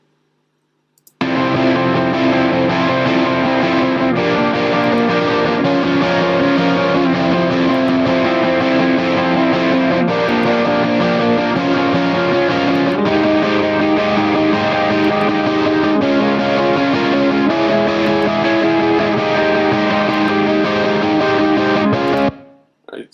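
Distorted electric guitar playing sustained chords, loud and continuous with a faint background whizz, heard as an A/B comparison of tones.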